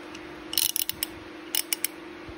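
Ratchet turning a 17mm six-point socket to remove an edger blade, two close bursts of crisp clicking pawl strokes separated by a brief pause, over a low steady hum.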